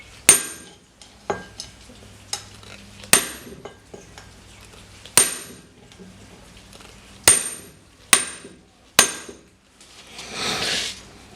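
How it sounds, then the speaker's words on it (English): A cold chisel is hammered through cold steel on an anvil, giving about eight sharp metallic strikes at uneven intervals with ringing decays between them, then a brief softer scraping at the end. "But we'll start with demonstrating the cold cut."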